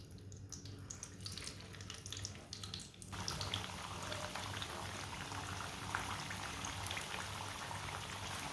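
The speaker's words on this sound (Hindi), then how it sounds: "ऑयल हमारा अच्छी तरह गर्म हो चुका है। अब एक एक करके कबाब डाल लेंगे।" Kebabs dropped one by one into hot oil set off a steady broadband sizzle that grows louder and denser after the first few seconds and continues without pause, with no talking.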